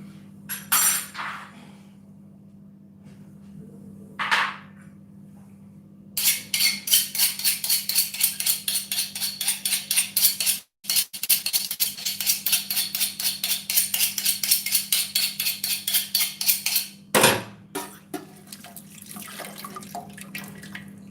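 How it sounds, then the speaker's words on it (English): Kitchen knife being drawn through a handheld sharpener, rapid rhythmic rasping strokes in two long close bursts broken by short pauses, with a few scrapes before and a steady low hum underneath. "I'm just sharpening the knife."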